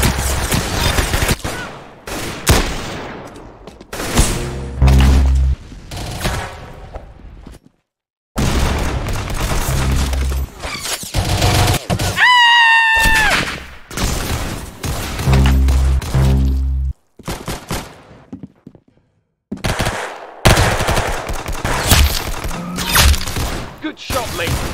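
Gunfire in the Roblox shooter Arsenal: repeated bursts of rapid shots and booms in clustered volleys, broken by short silences, with a rising synthetic sound effect partway through.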